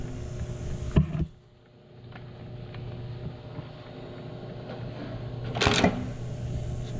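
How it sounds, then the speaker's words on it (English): An Acme Interlake Model A saddle stitcher, actuated by a foot pedal, fires two sharp mechanical clunks a few seconds apart over a low steady machine hum. "At the base of the machine, to the right side, the foot pedal to actuate the stitching motion."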